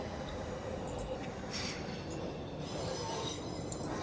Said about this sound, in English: This one is the Motherwell to Dalmuir train.